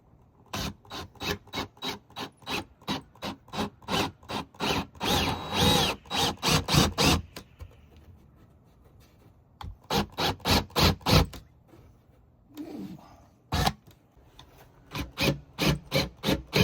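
Drilling into plywood during a Dodge Caravan camper platform build, heard as repeated short bursts of rasping, grinding strokes in several runs separated by brief pauses, close and fairly loud with no talk.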